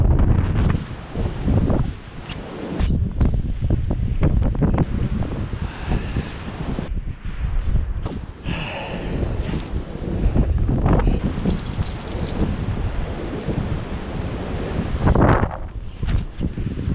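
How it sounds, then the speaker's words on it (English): Strong wind gusting during a snow storm while out walking a dog, a loud, rough, continuous roar buffeting the microphone with surging gusts. "Windy out."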